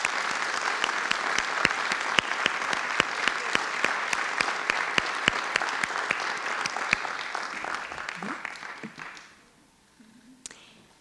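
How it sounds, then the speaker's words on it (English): A school board meeting audience claps for student award winners, a steady round of applause with sharp individual claps standing out, gradually thinning and fading away toward the end. "Let's give them a round of applause."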